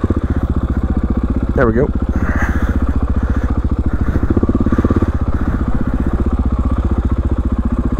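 An enduro motorcycle rides a cliff edge trail, its engine close and loud with a steady rapid chugging pulse throughout, a brief revving squeal near the start, and a rider speaking briefly over it.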